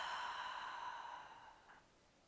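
A long, soft exhale during a hypopressive breathing exercise for the pelvic floor and core, a breathy sigh that fades gradually, followed by a brief small puff of air in a quiet room.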